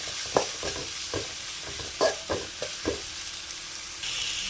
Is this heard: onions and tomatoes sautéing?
yes